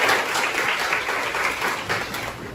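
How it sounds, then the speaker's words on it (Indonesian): A class of students applauds together in a classroom, loud and dense clapping that starts at full strength and eases off slightly toward the end, with no speech over it. "kita tepuk tangan dulu untuk semuanya telah berhasil menyelesaikan"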